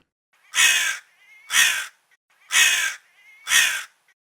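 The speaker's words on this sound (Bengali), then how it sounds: "এই কথা বলে কাক তখন জোরে জোরে গান গাইতে লাগলো" A crow caws four times in an even, steady rhythm, loud and close, with short silences between the harsh calls.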